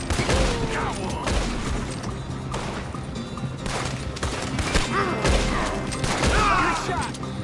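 Rapid gunshots ring out in a Red Dead Redemption 2 firefight, a dense fusillade of cracks and booms layered over game ambience, with voices talking in between.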